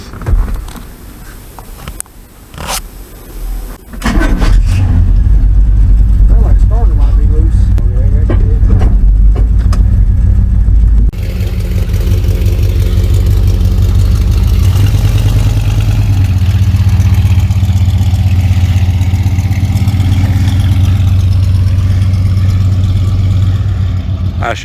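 An old car engine starts up and runs at a steady loud idle-to-cruise drone, then shifts pitch slightly as it pulls away for a lap around the block, with some clatter and brief talk early on.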